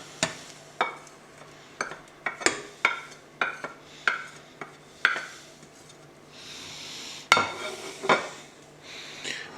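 Apples tipped into simmering mince pie filling, a series of close spoon taps and clinks against the pan over a gentle bubbling sizzle, with stirring scrapes near the end.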